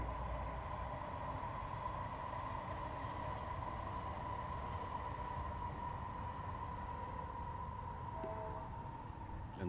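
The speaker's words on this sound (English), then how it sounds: "every time a train went by," A train rumbles past steadily, a broad low roar with a faint higher hum running through it, unbroken and fairly close.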